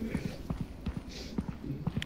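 Rapid, close clip-clop of horse hooves from the video game Content Warning, a quick irregular patter of hoof taps running alone for about two seconds.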